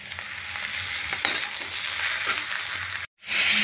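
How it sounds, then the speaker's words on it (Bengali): Potato and papaya frying in a pan for aloo kudri posto, a dense continuous sizzle with scraping stir strokes, briefly cutting out near the end before resuming. "আলু আর পেঁপেটা ভাজছি এবারে"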